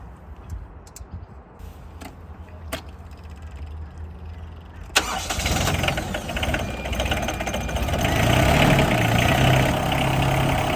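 A 1.7-tonne mini excavator's engine during a 250-hour service, first quiet background with a few clicks, then the engine starts and settles into a steady, close, rumbling idle that grows slightly louder.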